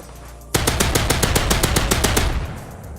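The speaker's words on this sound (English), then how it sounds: "when I shoot these, you're going to hear some hit markers" Rapid automatic gunfire in the video game Pixel Force Alpha, aimed at boxes to trigger hit markers: a loud, close burst of about fifteen evenly spaced shots that starts abruptly and then trails off.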